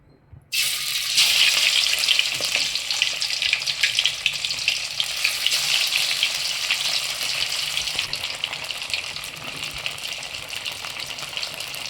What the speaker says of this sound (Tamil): இப்போ எண்ணெய் காஞ்சிடுச்சு. மீனை போடலாம்.